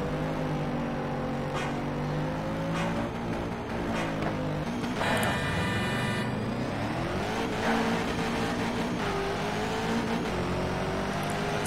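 Bugatti Veyron drag car in the racing game Shift 2 Unleashed, its engine revving hard and climbing in pitch through several quick gear shifts, loud and continuous with no talking.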